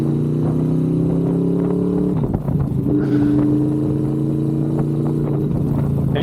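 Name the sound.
Honda VFR800 motorcycle riding away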